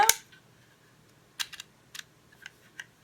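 Keys pressed on a HEMA label maker keypad, a few short sharp clicks in small clusters, close and fairly loud with quiet pauses between and no talking.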